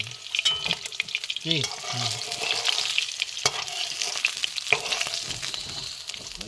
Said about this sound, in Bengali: ঠিক আছে, ভাজা ভাজা ঠিক আছে, মানে লাল লাল করে ভাজা একদম